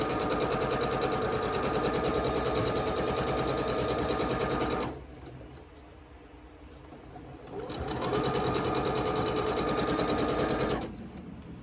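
A sewing machine chain piecing quilt block scraps: long runs of fast, steady mechanical whirring stitching, close and fairly loud, broken by one short pause before stitching resumes.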